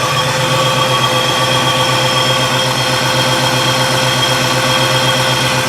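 A Ford Bronco 351W V8, fitted with EV14 fuel injectors on Holley EFI, idles loud and close. It holds a steady, even running note with no stumbles and no talking.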